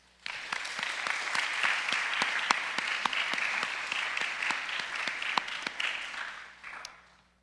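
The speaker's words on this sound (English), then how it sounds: "would you please join me once again in thanking them with a round of applause?" An audience at a National Honor Society induction ceremony in a school chapel applauds, steady scattered clapping with a few sharper nearby claps, holding level before tapering off at the end.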